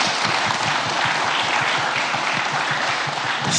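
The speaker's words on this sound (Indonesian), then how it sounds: "Mari kita tepuk tangan sekali lagi." A crowd gathered for a meeting with Pope Francis and charity recipients applauds in a thick, continuous wash of clapping, loud and sustained for the whole stretch.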